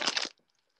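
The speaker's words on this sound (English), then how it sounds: "It just makes it kind of crunchy. I kind of like it with the crunch." Crunchy Cheetos-topped mac and cheese being chewed up close, a short burst of crisp crunching that stops abruptly and leaves near silence.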